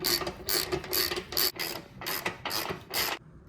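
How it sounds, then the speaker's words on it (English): A ratchet wrench clicks in quick repeated bursts as it loosens the 22 millimeter axle bolt on a Yamaha Roadstar 1700 motorcycle, nearby and fairly loud, with a short pause partway through and no talking. "we can get a 22 millimeter on the axle bolt and then just take it off."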